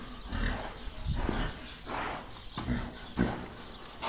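Horse on a farm, its hooves clopping and shuffling in a few irregular steps at close range, with some moving and rustling around it and no clear voices.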